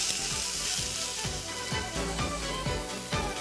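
Bife de chorizo steak searing in a hot frying pan, a soft continuous sizzle with faint repeated scraping ticks, fairly quiet and close.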